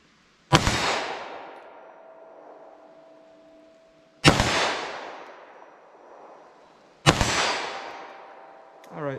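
Three slow, evenly spaced 9mm pistol shots firing Norma NXD non-expanding defense rounds at a steel target 25 yards away, each a sharp loud crack followed by a ringing metallic clang and long decaying echo.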